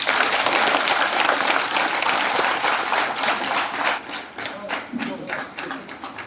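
Sustained applause from an audience at a school parent-teacher meeting at HSS Malothi, honoring a student and her father. The clapping is dense and steady at first, then thins into looser, separate claps toward the end.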